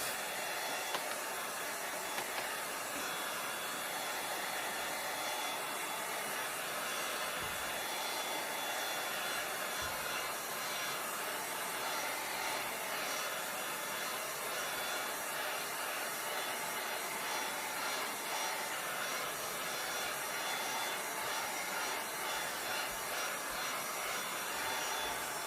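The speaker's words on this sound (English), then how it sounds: "I'm going to hit this with a little bit of a heat dryer real quick." Heat dryer blowing over fresh paint on a rainbow painting, a steady airy hiss and whir running continuously for a long stretch at moderate level with no talk.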